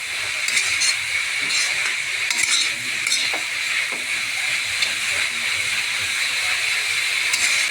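Dal greens being stirred in a hot pan after salt goes in, with a steady sizzle and hiss throughout and scattered scraping clinks of the spatula, close and fairly loud, no talking.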